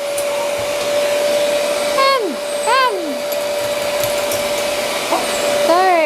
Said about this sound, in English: So I'm gonna put the stand dryer on the back.